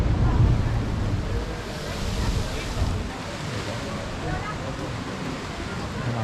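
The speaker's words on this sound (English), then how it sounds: "as the wave comes in, and it goes up into the blowhole and then spits out" Ocean surf surges into the La Bufadora blowhole near Ensenada, Baja California, Mexico, making a broad, steady rushing roar with a heavier burst early on, under wind noise.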